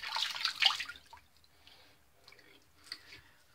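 Water runs from a tap as a single edge razor is rinsed during a wet shave, a loud splashing burst for about a second that fades to faint scattered drips.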